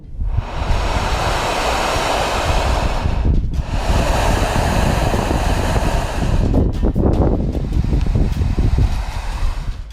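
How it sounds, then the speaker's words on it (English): Strong wind rushing on a windy day with a surf-like roar, loud and continuous, with a brief lull partway through and heavy buffeting against the microphone. "these strange noises were caught on camera during a windy day"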